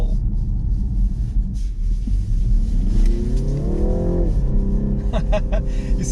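A BMW G20 330e Touring plug-in hybrid accelerates hard through a corner, its engine note rising steeply in pitch over a heavy rumble of road and tyre noise heard from inside the cabin.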